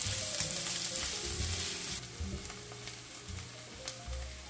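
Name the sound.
onion frying with garlic in pan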